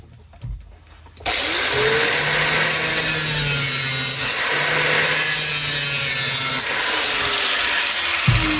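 After a moment of quiet, a power saw bites into a wooden van floor, cutting a channel, and runs continuously with a loud, steady rasping whine until it stops near the end.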